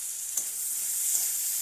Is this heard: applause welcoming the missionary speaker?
no